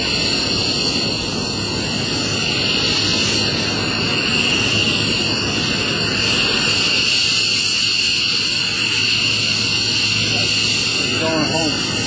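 A Lockheed C-130J-30 Hercules propeller aircraft drones steadily and loudly with a constant high engine whine, sounding close and continuous throughout, at an airshow.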